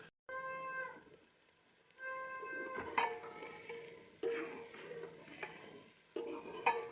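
Tomatoes and green chillies fry in a pan of oil and are stirred, giving steady sizzling broken by several scraping stirs and clinks of a spoon against the pan, close by with no talk.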